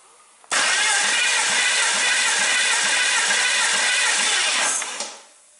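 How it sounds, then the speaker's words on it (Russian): 2005 BMW X5 E53 with a 3-litre M54B30 petrol engine cranking on the starter during a compression test, a loud steady rhythmic churning that begins abruptly and runs about four seconds before cutting off. "Замер компрессии двигателя автомобиля BMW X5 E53 2005 года выпуска."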